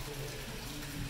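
Water runs from a valve into a tank, a continuous rushing flow that sounds even and close from start to finish.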